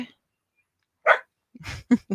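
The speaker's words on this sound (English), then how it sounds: "forgive my Shetland sheepdog over here for barking" A Shetland sheepdog barks indoors at a ranch house, giving a single sharp bark after a pause and then a quick run of three or four close, loud barks and yips.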